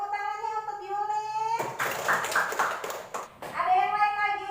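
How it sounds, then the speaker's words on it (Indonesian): Classroom applause for a student, a burst of several seconds of claps between stretches of a teacher's voice talking before and after. "Tepuk tangannya untuk Yuli."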